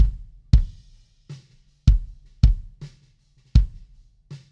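An unequalized drum mix plays a sparse groove of punchy kick and snare hits with ringing tails, loud and dry with gaps between beats and no talking.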